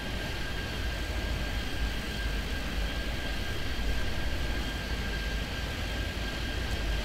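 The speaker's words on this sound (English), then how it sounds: "so many planes." Airplanes at LAX in the video game Airport Madness 3D make a steady, dense droning roar with a thin constant whine on top, holding an even level throughout with no talking.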